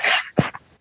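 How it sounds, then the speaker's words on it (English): Dog barking outside: a loud, close burst followed by a quick softer yelp, all within under a second. "Apologies if you hear a dog barking in the background."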